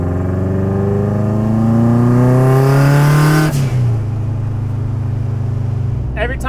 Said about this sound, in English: this is my first time driving with the headlight lids as they are, and they're just flapping